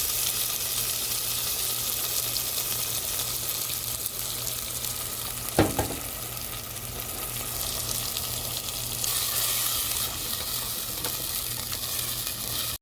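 Ground spice paste goes into a hot pan for a Sri Lankan Jaffna fish curry, giving a steady close frying sizzle with one brief sharp clatter partway through and no talking.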